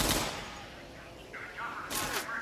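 Gunfire in the video game Left 4 Dead 2: a sharp burst of shots at the start, then a quieter stretch with faint game effects, and a second loud cluster of gunfire near the end.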